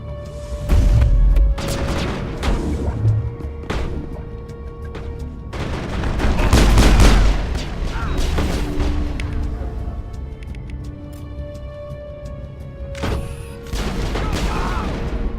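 Combat gunfire in the Mass Effect video game, loud bursts and rapid shots with booming impacts throughout, mixed with game voices and music tones.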